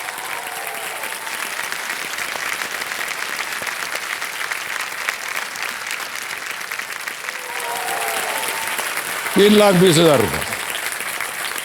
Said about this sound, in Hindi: और तालियां जो हैं वो बजती रहें